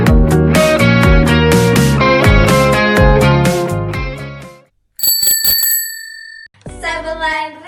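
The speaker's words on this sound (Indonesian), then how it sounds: "Kalau itu sih kayaknya kayak bunyi bel sepeda." A bicycle bell rings loudly in rapid repeated dings over several seconds, then after a short silence comes a sustained metallic tone and a further burst of rings.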